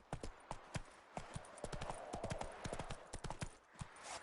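Roach, the horse in The Witcher 3, gallops on the hooves, and the clip-clop runs in a quick, uneven stream of close, sharp strikes that ends with a few scattered steps.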